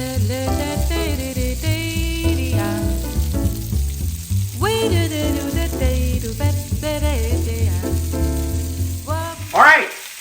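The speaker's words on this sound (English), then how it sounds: "I'm going to let that go ahead and sizzle. I love that sound." Salmon fillets sizzle skin side down in a hot pan, a steady close crackle and hiss that runs throughout beneath melodic background music.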